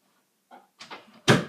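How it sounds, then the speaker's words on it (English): A bedroom door being shut at home, with a couple of soft handling clicks and then one sharp close near the end, close and fairly loud, no talk. "Shut my door."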